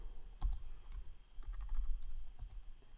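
Code being typed on a computer keyboard, with quiet irregular keystroke clicks in short bursts, close and alone.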